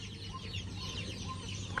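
At a hatchery, chickens give soft, scattered clucks that sit fairly low against a constant background hum.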